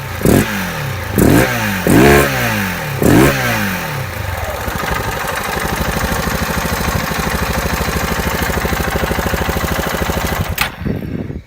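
KTM 690 single-cylinder motorcycle fitted with a modified airbox intake, blipped through four sharp, loud revs that fall back, then settling into a steady, rough, throbbing idle before a brief final blip.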